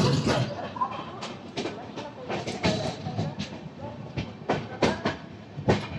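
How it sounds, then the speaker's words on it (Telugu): The Narayanadri Super Fast Express, train 12734 from Lingampalli to Tirupati, pulls out of Secunderabad station on the main line, wheels clattering in an uneven clickety-clack over rail joints under a steady rumble, close and moderately loud. "సికింద్రాబాద్ స్టేషన్లో ఒక 5 minutes హాల్ట్ తర్వాత మన నారాయణాద్రి అయితే స్టార్ట్ అయిపోయింది"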